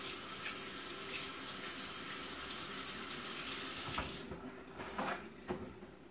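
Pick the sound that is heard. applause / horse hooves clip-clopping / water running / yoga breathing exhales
water running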